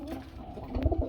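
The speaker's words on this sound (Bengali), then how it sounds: "লাল চুল্লি কবুতর দেখতে পাচ্ছেন রানিং জোড়া।" A red pigeon at a pigeon market gives soft, low cooing in a few quick throaty pulses near the end, close by over quiet background noise.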